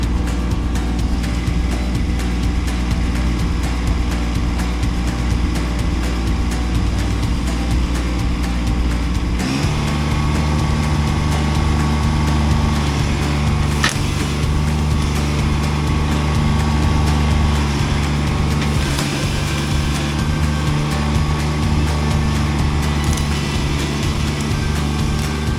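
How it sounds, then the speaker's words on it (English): A Kubota B2601 tractor engine runs hard at full throttle in low gear and 4-wheel drive while pulling out boxwood shrubs, a loud, continuous close drone that shifts pitch and strains partway through. "Low gear, 4-wheel drive, full throttle, and now I'm up to the running start method."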